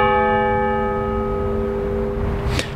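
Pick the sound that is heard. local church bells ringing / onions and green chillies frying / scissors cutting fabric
local church bells ringing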